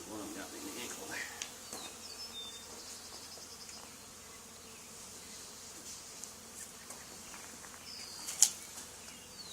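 A honey bee swarm at an old barn hums as a faint, continuous buzz of many insects, with occasional closer passes and a brief sharp tick near the end.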